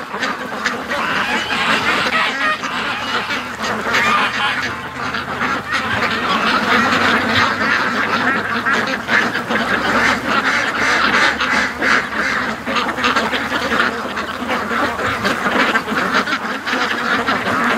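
A flock of ducks being raised for a charity feed run, quacking and honking loudly and continuously in a dense, overlapping chorus close by.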